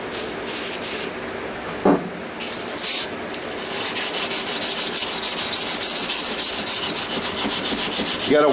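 Hand sanding the flats of a knife blade with a fresh piece of sandpaper, close rasping strokes that settle into a fast, even back-and-forth rhythm.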